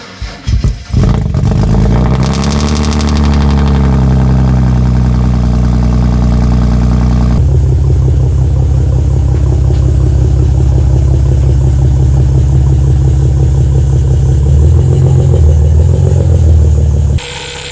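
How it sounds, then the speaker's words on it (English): A BMW 335i wagon engine cold-starts with a loud crank and catch, a raised fast idle, then a sudden drop to a steady, rumbling idle that continues close and loud. "let's get a cold start on it"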